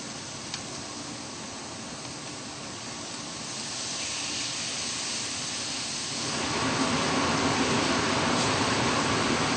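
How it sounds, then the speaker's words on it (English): Marinated skirt steak sizzles on a grill, a steady broadband hiss and crackle that swells noticeably louder partway through as more meat hits the heat, close and continuous with no voices. "we're going to take my skirt steak and put these guys right on the grill"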